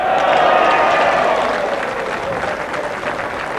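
Crowd applause at the Bass Masters 1988 bowls final stages, following a strong bowl from David Richardson: loud, dense clapping that swells at the start and eases slightly, with a commentator's voice over it.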